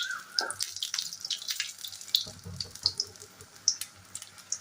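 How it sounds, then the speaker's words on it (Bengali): Chili pakoras with potato filling frying in hot oil in a small kadai, two at a time, a soft bubbling crackle with scattered sharp pops close by, no voices. "তো দেখুন এখানে আমি ভাজতে দিয়ে দিয়েছি।"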